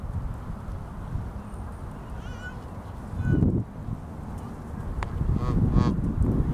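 Geese honking among ducks and yearlings at a pond, with a few short honks near the middle and a busier burst of calls toward the end over steady outdoor background noise.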